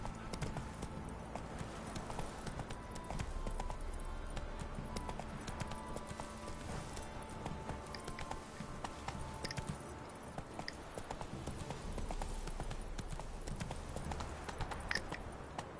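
Roach, Geralt's horse in The Witcher 3, gallops with a steady, rapid clip-clop of hooves running continuously and evenly, close and moderately loud over a low ambient game backdrop.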